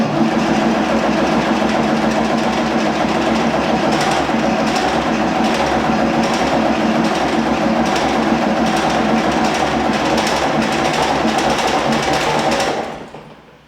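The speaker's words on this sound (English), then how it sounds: "it did sound like it was trying to fire up" A Unimog 416 diesel engine cranks over steadily on its starter, a loud, continuous rhythmic churning with fast regular beats that never catches and runs, holding for about thirteen seconds before cutting off.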